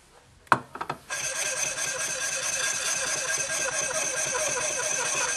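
A gemstone facet is cut on a spinning faceting lap. A few sharp knocks come first, then a steady gritty grinding rasp that runs on evenly and close, with no talking.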